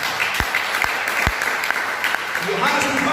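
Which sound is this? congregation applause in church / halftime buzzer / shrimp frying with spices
congregation applause in church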